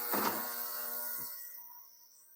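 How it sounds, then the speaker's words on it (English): An ultrasonic parts cleaner runs with a freewheel from a folding bike inside, giving a loud, steady electric hum and hiss that gradually softens, with no talk over it. "I'll show you what the ultrasonic cleaner does as I turn it on."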